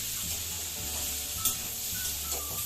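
Ridge gourd and mung dal curry stirred in a pan, a steady soft sizzle under faint scraping with one sharper clink midway, close and alone without speech.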